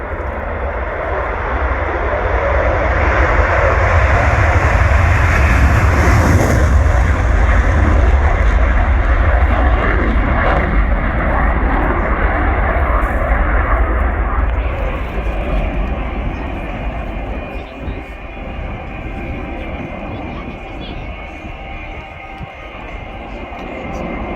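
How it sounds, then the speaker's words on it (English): An F-16 Fighting Falcon fighter jet roars past at an airshow, a loud, heavy engine rumble with broad jet noise that peaks and then recedes into a lower, steady drone. "we're proud representing the Kalanic F-16 Fighting Falcon"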